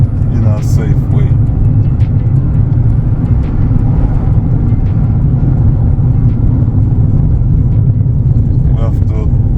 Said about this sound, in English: I want to just give it a little bit of acceleration, but in a safe way.